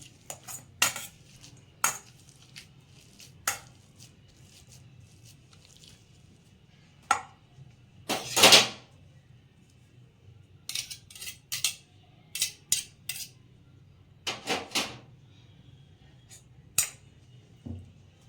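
Potatoes being sliced on a handheld kitchen slicer while making chutney puri, heard as a series of short, sharp scraping and clacking strokes in irregular bursts, close and fairly loud with quiet gaps between.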